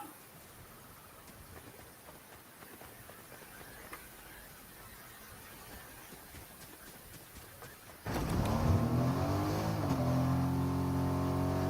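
Truck engine in the Fortnite video game, a steady low rumble that swells and revs louder partway through, with rising engine tones and a hissing background wash.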